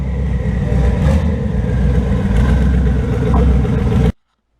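A car engine runs steadily through a freshly fabricated exhaust on a Cornova with new turbos, a loud, continuous low rumble that cuts off abruptly near the end.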